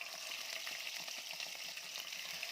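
Chicken pieces frying in melted butter and oil, a continuous bright sizzling hiss with small crackles throughout, heard close and fairly quiet with no talking.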